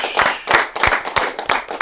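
A studio audience claps for an arriving guest, a burst of uneven handclaps in loose pulses, close and fairly loud, with no voices over it.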